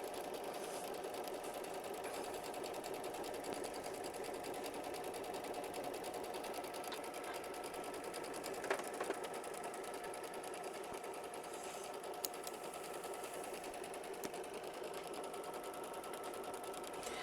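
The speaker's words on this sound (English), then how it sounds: "hit start and sew machine stitch step 1 directly onto the stabilizer of your choice" An embroidery sewing machine stitches the first step of a block straight onto stabilizer in the hoop, a steady, continuous mechanical whir with fast needle chatter running alone at an even level throughout.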